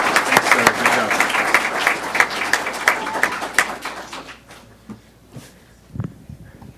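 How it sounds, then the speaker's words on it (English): Applause from the audience at a school board meeting honoring a math and science teacher, dense clapping that fades out after about four seconds, followed by quiet room noise and a brief thump. "All right, round of applause for Miss Lane."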